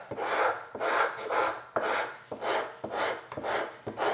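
A coarse woodworking rasp files wood in about eight rhythmic back-and-forth strokes, each a loud close scraping rasp with brief pauses between, alone without talk.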